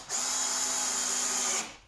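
A power drill drives a screw into plywood during a single steady whine of about one and a half seconds, loud and close, then winds down.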